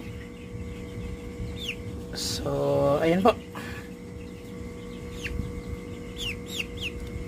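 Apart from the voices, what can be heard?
chicken clucking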